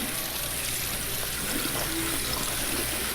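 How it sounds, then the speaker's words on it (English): Canned garbanzo beans rinsed in a strainer under running tap water, a steady close rush of flowing water with a soft trickling texture throughout. "And now we're just going to give a quick rinse to our garbanzos."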